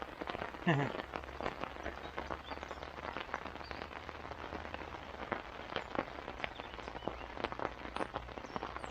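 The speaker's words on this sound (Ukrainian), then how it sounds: "вже почався серйозний дощик" Steady heavy rain patters on a surface, with dense scattered drops close by throughout, at an overnight riverside fishing camp.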